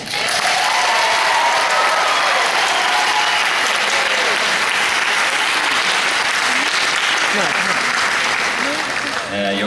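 An audience gives sustained applause for a band, loud dense clapping and crowd noise holding steady throughout, with a few voices mixed in.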